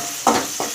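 Chopped shallots hit a pan for mutton curry, giving a sudden close sizzle with a stirring scrape and a second brief burst of frying a moment later.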